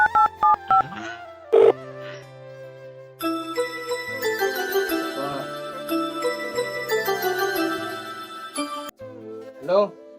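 A telephone keypad dialing, a few quick separate beeps followed by a longer run of tones and ringing, loud and close, with a brief voice sound at the very end.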